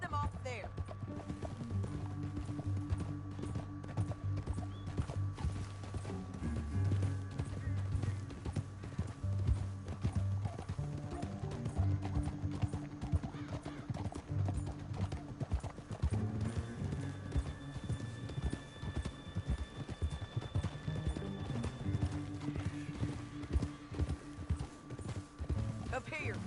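Horses clip-clop steadily through a Red Dead Redemption 2 canyon ride, repeated hoof strikes under a game music bed with character dialogue and an occasional whinny.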